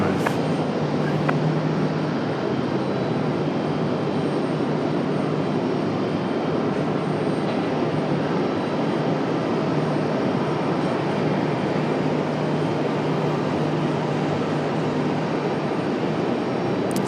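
An Air France Airbus A350 taxis at Raleigh-Durham airport in the evening, its engines giving a steady, even rumble and hum that carries on unchanged from start to finish with no voices.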